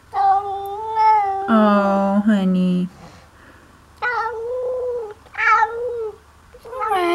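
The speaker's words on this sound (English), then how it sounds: "This cat is ready to fight." A cat caterwauls in a series of long, loud, wavering yowls, growling and rising, with pauses between calls, and a person speaks briefly.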